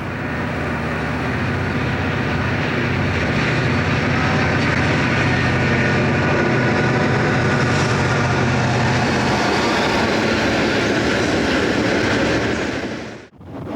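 An Erie Lackawanna westbound train led by locomotive 2578 rolls past Rundle's Curve, a loud sustained roar of engine and wheels on rail that holds steady for many seconds before cutting off abruptly.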